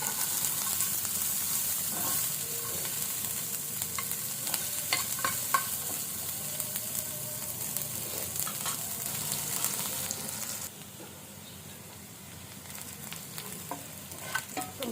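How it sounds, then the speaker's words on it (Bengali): Chopped onion and green chili frying in a pan, with a continuous sizzle and occasional scraping stirs, loud and close, dropping somewhat quieter near the end. "পেঁয়াজটা ভাজা হয়েছে,"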